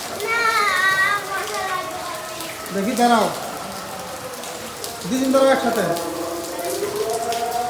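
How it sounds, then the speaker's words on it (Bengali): Heavy rain falls over Dhaka after intense heat, a steady hiss running beneath children's chatter and an adult voice. "প্রচণ্ড আকারে বৃষ্টি হচ্ছে, মানে বৃষ্টি প্রচুর গরমের পরে স্বস্তিদায়ক বৃষ্টি"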